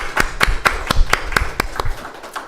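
Congregation applause in a church during a worship service: rhythmic, fairly loud claps at a steady beat, roughly ten clear strikes over a couple of seconds with no voices.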